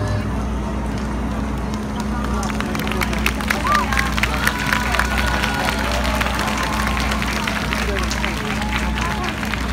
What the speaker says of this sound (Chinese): 我们掌声给我们说书人一个热情的掌声